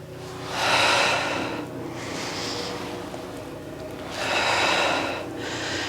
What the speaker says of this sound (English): Exhale out, and inhale back.